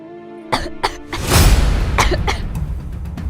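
A young woman coughs close by, a couple of quick throat bursts followed by a longer, rough, breathy coughing fit, heard alone without speech.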